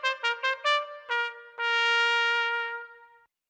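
The unicorn song melody from the Little Einsteins cartoon: five short, bright, separated notes in a quick rhythm, then one long sustained tone that fades out, clean and alone with no talk.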